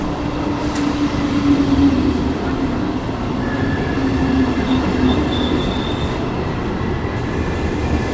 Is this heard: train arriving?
yes